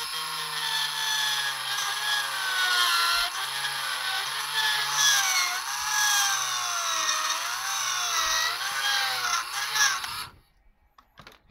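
A small drill widening holes in a Grado headphone housing, a continuous high whine with wavering pitch that runs steadily for about ten seconds and then stops abruptly, leaving near silence.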